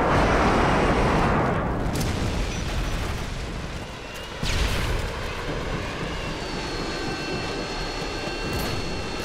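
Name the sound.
Harrier jets striking with explosions in Call of Duty Modern Warfare video game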